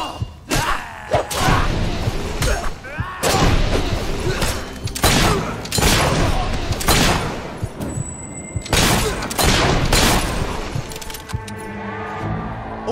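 Gunfire in a mercenary battle in Fable III, heard as loud, punchy shots and thuds repeating in uneven bursts, with a brief high tone in the middle and a quieter tail.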